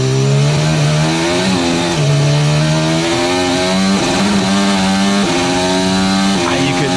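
A high-pitched Formula 1 engine roars continuously, its pitch dipping and climbing in hesitant steps as throttle is eased on and off through turn 2 at the 2024 Chinese Grand Prix sprint qualifying.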